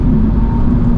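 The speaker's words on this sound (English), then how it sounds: "We can hear the artificial sound in the back." A steady electric whine hums from a Tesla Model 3 Performance's artificial driving sound in snow, a smooth synthetic tone held over a low rumbling drone, loud and continuous.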